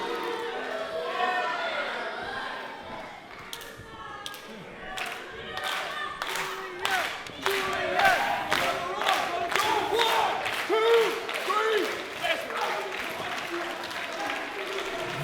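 Wrestling arena crowd at an IHW event cheers, shouts and claps steadily, with bursts of sharp rhythmic clapping and rising yells throughout, while a commentator talks over the noise.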